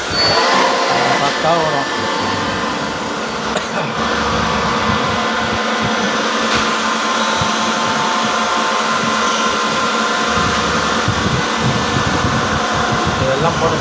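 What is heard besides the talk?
machine started running on a loaded workpiece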